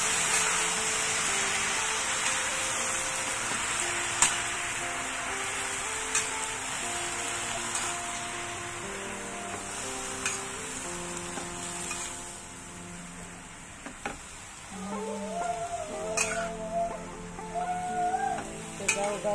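Ensabi greens stirred in a hot frying pan, with steady sizzling and scraping of a utensil against the pan, spoon clinks scattered throughout; a few brief voices come in near the end.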